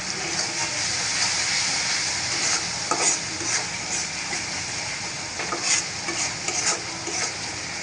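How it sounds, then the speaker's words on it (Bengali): Fish masala spices fry and get stirred in hot oil for a village-style rupchanda fish curry with taro, a close, steady sizzle broken by scraping stirs, with no talking. "মশলাটা কিন্তু আমি ভালো করে কষিয়ে নিব"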